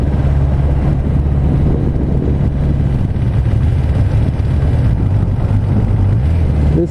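A motorcycle about 300 cc larger than the rider's previous bike cruises steadily, its low engine drone heavily buffeted by constant wind rush across the microphone, loud and unbroken throughout.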